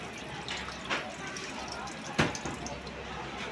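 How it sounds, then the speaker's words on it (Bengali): Water running from the tap in a train toilet aboard the Kalka to Howrah Netaji Express, a soft continuous splashing stream with a couple of brief louder splashes, heard at low level. "এটা দারুণ সুন্দর কল দিয়েছে, কলে খুব সুন্দর জল আসছে।"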